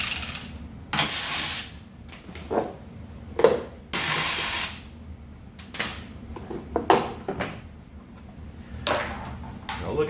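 A socket wrench ratchets bolts off the plastic covers of a Kubota Z251 mower deck. Bursts of quick clicking repeat several times, separated by short pauses and handling noise, close and clear.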